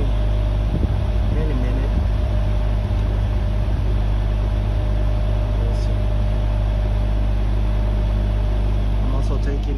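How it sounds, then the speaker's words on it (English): Outdoor air conditioner unit with a restricted TXV, fan and compressor running as a steady low hum and whir, with a brief spoken remark near the start. "So now the outdoor fan will turn on. The compressor should turn on"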